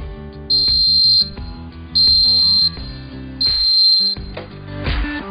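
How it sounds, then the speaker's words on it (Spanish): A household smoke detector under a sound test, its button held down, giving three loud, shrill alarm beeps about a second long, separated by short gaps, heard alone. "hay que comprobar también el test sonoro. Para ello simplemente hay que presionar el botón durante unos segundos."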